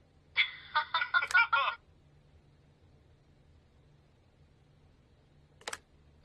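A phone answering machine in The Wolf Among Us gives a short burst of bright electronic beeps near the start, then falls to a faint hum, with one more brief tone near the end.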